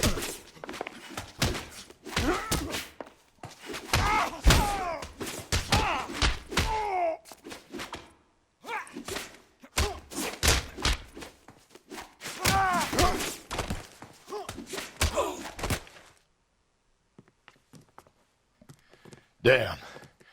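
Fistfight in L.A. Noire, with a run of dull thuds and thumps trading back and forth amid grunts, then a pause and one last hit near the end.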